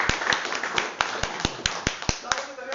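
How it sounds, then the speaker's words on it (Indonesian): A seminar audience claps in a loose, uneven rhythm of separate sharp claps that stay fairly close and moderate in loudness. "Tepuk tangan"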